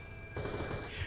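Gunfire in the video game Borderlands: The Pre-Sequel, a sudden burst of rapid shots that cuts in partway through and continues steadily to the end, fairly close and loud.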